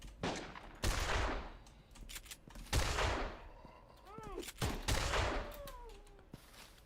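Gunfire in the VS Cartel video game, with several loud sharp shots spread across the stretch, the closest bursts dropping into short pauses, and a voice talking between the shots.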